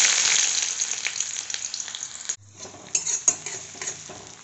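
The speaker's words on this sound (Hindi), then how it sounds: "मेरा तेल गर्म हो गया। अब इसमें डालूंगी मैं लहसुन प्याज।" Garlic and onion frying in hot oil for a wild mushroom dish, a bright crackling sizzle with stirring and utensil clinks, briefly dipping before sputtering again.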